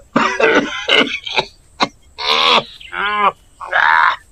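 Several harsh, loud coughs close by from someone with a cold and fever, coming in bursts with short pauses, some raspy and throaty like clearing the throat.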